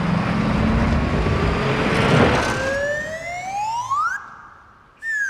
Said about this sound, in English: Number 8 is the car flip sound in The Man with the Golden Gun.